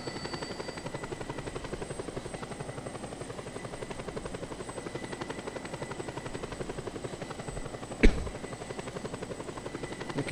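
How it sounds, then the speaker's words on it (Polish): Helicopter in the video game Just Cause 2, a steady rotor thrum held at even loudness throughout, with one sharp bang near the end. "O, śmigłowiec, świetnie, to mi ułatwi troszeczkę zadanie."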